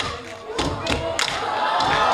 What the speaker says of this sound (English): You're going to tap it twice and then clap once.